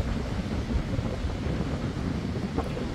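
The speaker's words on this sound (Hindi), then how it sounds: "पानी का शोर।" Steady broadband roar of water along the coast, a continuous wash of surf with wind rumble and no distinct breaks, heard alone.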